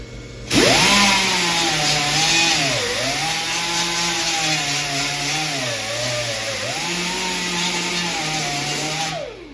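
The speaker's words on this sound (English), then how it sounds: "Now, when you grind, also jump around." A power grinder runs continuously and loudly on a metal arcade control panel during a Journey arcade cabinet restoration, its whine dipping briefly as the tool moves around the steel, with no talking.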